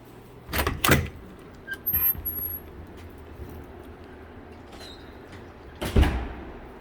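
A door between sections of a college heavy-duty vehicle shop is handled and swings open with a couple of clunks, then a quiet pause and another solid thud of it closing.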